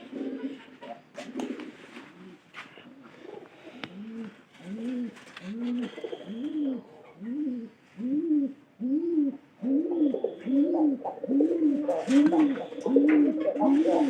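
Pigeons cooing in a loft where pairs are mating, a steady run of repeated low rolling coos that grow louder and denser toward the end, with faint background noise.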